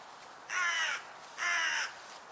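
Two drawn-out caws from a single crow, close and clear over a quiet background, separated by a short pause.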